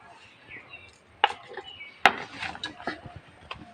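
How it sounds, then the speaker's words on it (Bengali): A knife chopping pointed gourd (potol) on a board in a home kitchen, a few sharp, separate cuts spaced irregularly and heard close against a quiet background. "তাই প্রথমে পটলগুলো আমি কেটে নেবো"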